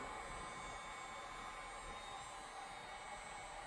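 A very hot heat gun blows air onto 3M tape to soften it while installing a spoiler on a Honda Accord, a constant close whooshing roar that holds steady throughout, no voices.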